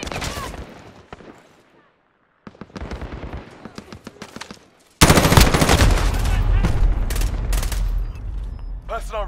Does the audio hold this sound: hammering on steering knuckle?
no